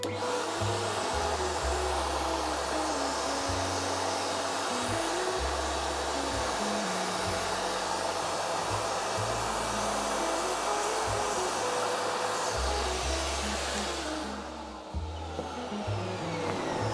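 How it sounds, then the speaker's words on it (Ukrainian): A loud, steady whir of a vacuum cleaner runs throughout, with a low motor drone that shifts pitch occasionally and dips briefly near the end. "Я буду брати пилосос, включати його і паралельно буду пшикати повітря"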